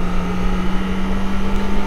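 A Kawasaki ZX25R four-cylinder motorcycle engine holds a high, steady rev in third gear during break-in riding, giving a loud, even, close buzzing drone with no talking.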